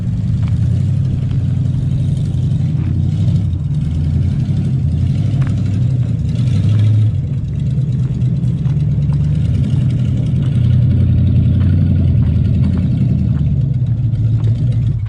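A 1969 Plymouth Fury with a 400 big block engine rumbles steadily at low speed while backing in, a deep, loud, continuous idle with slight throttle swells throughout.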